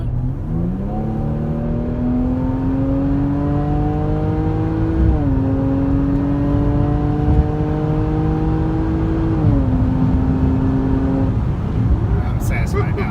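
A 2017 Jaguar F-Pace 35t with 340 horsepower accelerating hard on a test run, engine note climbing steadily through three gear changes, loud and close from inside the cabin.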